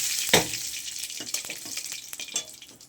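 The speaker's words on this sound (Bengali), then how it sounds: "দিয়ে দিলাম শুকনো লঙ্কা, তেজপাতা, দিচ্ছি সাদা জিরে" Dried red chili, bay leaf and white cumin sizzling in hot oil used for frying shrimp, a sharp burst of crackle as the spices hit the pan, then quieter scattered sizzles and pops.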